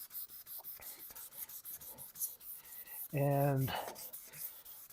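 Hand wet sanding of a foggy car headlight gives soft, rhythmic rasping strokes repeated steadily close by, with a brief spoken word partway through.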